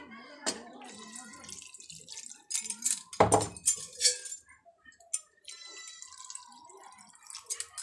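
Water poured into a pan of frying potato, cabbage and eggplant with spices, giving a brief loud splash and hiss around the middle amid scattered drips and utensil clinks, with faint talk nearby.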